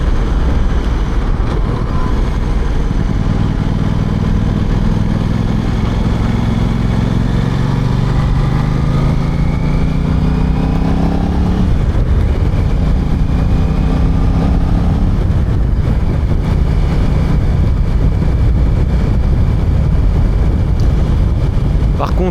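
An Aprilia RS660 Factory motorcycle engine runs steadily and fairly quietly on its stock exhaust, with low harmonic tones rising and falling as revs shift, under wind noise throughout.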